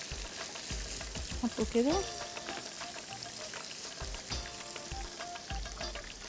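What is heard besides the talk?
onions frying in a pan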